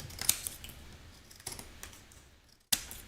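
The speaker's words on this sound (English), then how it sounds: "I flip my card over, and I trim off any excess" Scissors trim excess silver mirror board from the edge of a greeting card, giving a few quiet snips and one sharp closing cut near the end, with faint rustling between.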